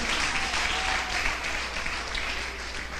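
Sustained applause from a church congregation, many hands clapping in a thick, even wash that eases slightly toward the end.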